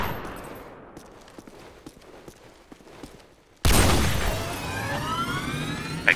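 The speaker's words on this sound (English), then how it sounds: "you'll tell when it's over because you hear the sound of the siren" A loud siren wail from a video game bursts in suddenly after a quiet stretch of faint scattered pops and gunfire-like clicks, its rising and falling tone ringing out strongly to the end.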